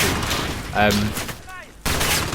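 Video game gunfire during a Modern Warfare campaign mission at an embassy, a dense burst of shots that drops away briefly before heavy firing resumes, with a voice-like tone mixed into the middle.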